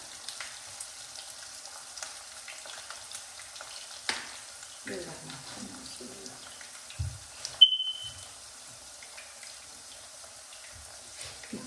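Potatoes and eggplant fry in a pan with a soft, steady sizzle, faint and close, interrupted by a few clinks and stirring sounds.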